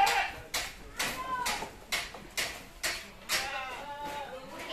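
Goats bought for qurban sacrifice bleat near at hand while being fed, a string of short, wavering calls repeating roughly every half second.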